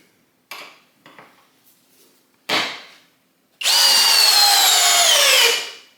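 A Flex compact drill on a 2.5 amp hour battery at speed 2 drives a 5/16 by 8 inch GRK screw, rising to a loud, steady whine that holds for about two seconds and then trails off, after a few short clatters.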